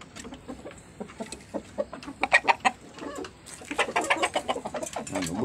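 Chickens cluck and call close by while being fed rice mixed into their feed, with a dense burst of overlapping clucks and pecking near the end and no speech.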